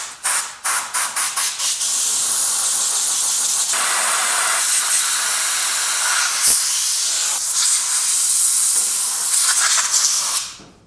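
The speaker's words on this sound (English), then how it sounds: "Let me take some air to it, and we'll air dry it" Compressed air blasts onto a 1969 Mustang frame rail to dry it, a few short bursts followed by a long loud steady hiss close by that cuts off at the end.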